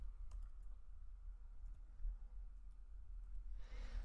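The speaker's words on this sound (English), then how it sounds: "I'll type content." Soft clicks from a computer keyboard tap faintly over a low background hum, with a brief louder rustle near the end.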